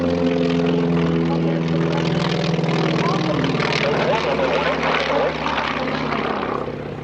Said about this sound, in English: close to that max speed of 343 miles per hour from this incredible radial engine